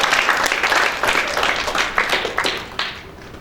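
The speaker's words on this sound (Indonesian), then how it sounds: "tepuk tangan buat Tuhan." A crowd at a youth church gathering in Batam breaks into applause, a bright dense clapping that swells and ebbs in waves over a few seconds, fading toward the end.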